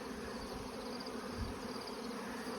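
Honey bees buzz in a dense, continuous drone at a hive, steady and faint with no voices.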